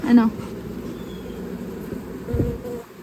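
Honeybees crawling over queen cells on a pulled hive frame buzz in a low continuous drone close by, with a voice briefly audible and some handling noise.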